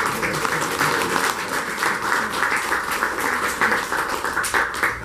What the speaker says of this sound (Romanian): vă rog să-l aplaudăm întâi pe